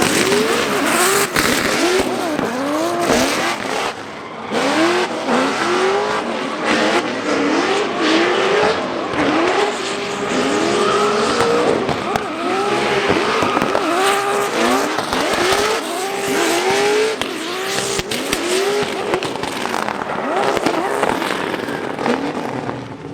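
Drift cars at a drift party event in Englishtown, New Jersey, loud and continuous with revving engines and repeated tire squeals rising and falling throughout, no talking.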